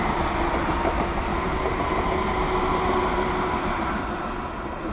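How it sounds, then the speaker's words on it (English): A train rumbles steadily past at St. Johns station, a continuous broadband roar with a faint high whine, fairly loud and even throughout, tapering slightly near the end, with no voices. "The train on the right goes to somewhere, and the train on my left now goes to Cannon Street."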